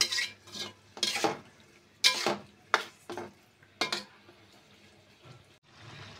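Rohu fish masala with chopped tomatoes and salt being stirred and fried in a pan: a series of loud, close scraping strokes of a spoon against the pan at an irregular rhythm over a soft sizzle, no talking.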